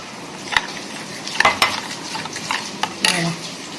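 Thecha chicken in soy and chili sauce with a splash of added water, stirred in a pan: a soft bubbling sizzle punctuated by a handful of close, sharp scrapes and clinks of the spoon against the metal.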